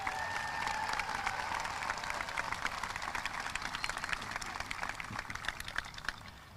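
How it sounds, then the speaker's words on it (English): Commencement audience applauding at a graduation ceremony, a dense, steady patter of many hands clapping at moderate distance, faint voices mixed in, gradually fading toward the end. "Let's give a round of applause for Mr."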